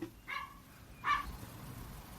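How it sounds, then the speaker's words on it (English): A dog barks twice in the background, two short faint woofs about a second apart against quiet outdoor ambience. "Sorry about the dog."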